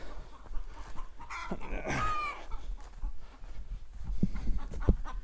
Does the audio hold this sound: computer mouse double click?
no